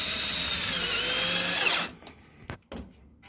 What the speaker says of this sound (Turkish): şu şekilde vidalıyorum